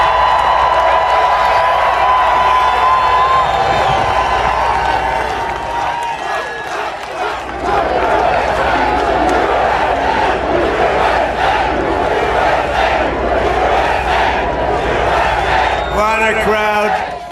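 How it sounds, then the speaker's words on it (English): Large outdoor crowd at a political America 250th anniversary celebration roars, cheers and claps continuously, loud and sustained, with a voice briefly heard over the noise near the end. "What a crowd."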